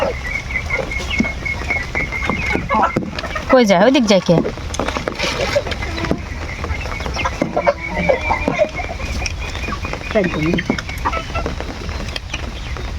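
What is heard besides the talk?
chickens clucking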